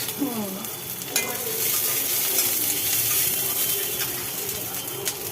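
Dried red chillies and onion sizzle and crackle in hot oil in a pan, with stirring scrapes throughout and a steady, close frying hiss that stays loud across the whole stretch.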